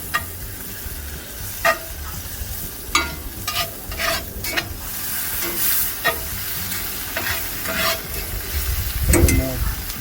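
Olive oil, butter, salt and pepper are stirred in a hot pan for pan-seared salmon, with close utensil scrapes and taps repeating over a soft steady sizzle and no talking.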